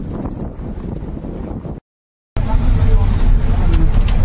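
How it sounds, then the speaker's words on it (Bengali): Heavy storm wind and rain buffet a moving bus on the road from Srinagar to Jammu, a loud broadband roar that cuts out briefly to silence and then returns even stronger. "বাইরে প্রচণ্ড ঝড়ে বৃষ্টি"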